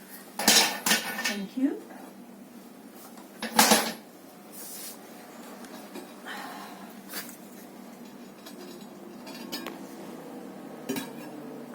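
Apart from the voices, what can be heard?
bisque-fired ceramic pieces clinking while unloaded from pottery kiln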